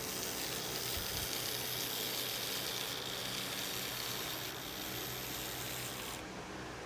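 A Mehano N scale RSD-15 model locomotive runs along its track with a steady, hissing motor whir that holds for several seconds before easing off near the end.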